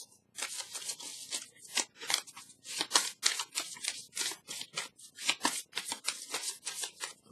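Tarot cards being shuffled, a close and crisp run of rapid papery riffles and slaps in uneven bursts that carries on without pause and with no voice over it.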